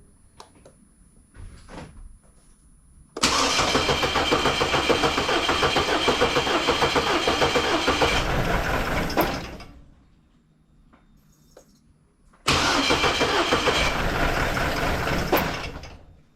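Key start of a 2005 Chevy Colorado engine: after quiet clicks and handling noises, the engine cranks and runs loudly for about six seconds, cuts out, then starts again for a few seconds more, close and without talk.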